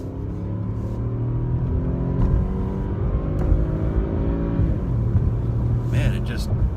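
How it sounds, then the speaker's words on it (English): A 2018 Cadillac XTS V6 engine drones and climbs in pitch as it accelerates up a highway ramp, rumbling steadily with a brief gear shift partway through, heard from inside the cabin. "I'm going to give the acceleration one more try from a little bit lower speed."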